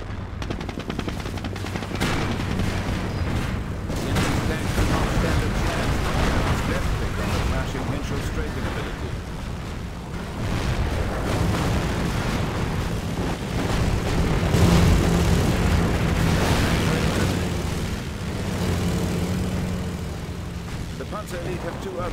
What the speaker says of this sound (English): With this ability, Henschel aircraft will fly by the target location, targeting all enemies within their flight path.